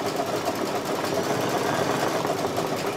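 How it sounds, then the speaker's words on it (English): An embroidery machine satin-stitching around the outline of a bone on an in-the-hoop quilted stocking, a fast, even mechanical whirr with rapid needle pulses running continuously and alone. "It's time for the final satin stitching around the outside of the bone."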